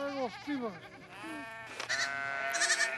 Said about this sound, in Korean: 허기진 배를 채우고 싶은 마음에 양과 염소들이 다투어 풀을 찾아갑니다